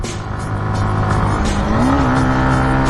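A motorbike engine labours up a steep, rough uphill road with a U-turn at Dim Pahar in Bandarban, held in second or third gear. The loud, close drone stays steady and its pitch climbs slightly midway.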